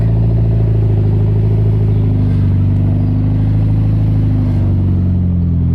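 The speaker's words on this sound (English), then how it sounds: "I'm gonna have my nephew start up the vehicle and I'll show you guys the light" Mitsubishi Evo X engine running steadily at close range, a loud, even mid-pitched drone with a slight shift in tone partway through and no voices.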